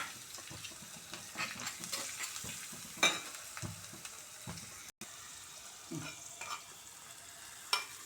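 Dhal tadka tempering with chili powder, chilies and coriander frying in a pan, an ongoing sizzle broken by scraping stirs and a few sharper clinks, close and fairly quiet, with a brief drop partway through.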